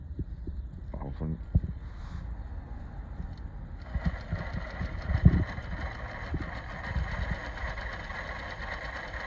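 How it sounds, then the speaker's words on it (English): Sewing machine stitching fold-over elastic onto fabric runs in a steady mechanical whir after some starting clicks, close by, with a voice speaking over parts of it. "I'm gonna start sewing."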